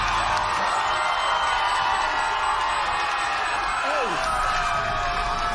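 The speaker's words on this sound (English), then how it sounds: "The crowd wants it, chanting away." Esports arena crowd at a VCT Americas Valorant match between G2 Esports and Sentinels, a steady roar of cheering and chanting that fills the background beneath a commentator's continuous talk.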